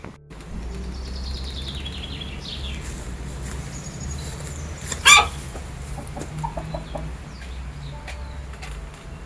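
Chickens clucking and calling at the bottom of a garden chicken coop, with a brief loud squawk or flutter midway and scattered soft clucks over a steady low background hum.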